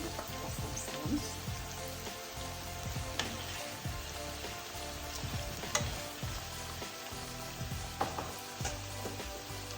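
Tomato paste fries with onions and meat in a pan, a soft, steady sizzle with repeated scraping stir strokes throughout, fairly quiet and close, with no talking.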